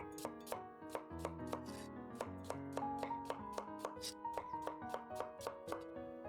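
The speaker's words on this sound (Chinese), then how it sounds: "再来煎个黄瓜，给它切厚片。" A knife cuts cucumber into thick slices on a board, a quick, regular run of sharp close chops, some twenty strokes, with no talk.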